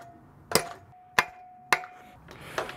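Three sharp hammer blows, evenly spaced, ring out while a mountain bike headset is fitted during a dirt jump bike build, with a softer knock at the end and a faint steady tone underneath.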